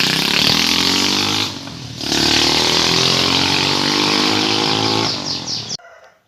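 Motorcycle engine fitted with a budget 28 mm carburetor, previously on a Honda CB, revs loudly and steadily through a carburetor setting test, dipping briefly mid-way before climbing again and cutting off near the end.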